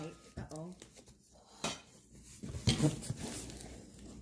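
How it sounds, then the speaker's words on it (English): A 5-ply stainless steel 4-quart casserole pot is handled with a few clanking knocks and rattles, the loudest bunched near the end, while a person talks. "Now this is the 5-ply stainless steel 4-quart casserole."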